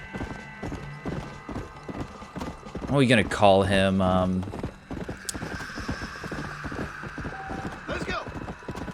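Horse hooves clip-clop steadily through a Red Dead Redemption: Undead Nightmare game scene, with a loud neigh and whinny partway through and mechanical clicks, while someone talks over it.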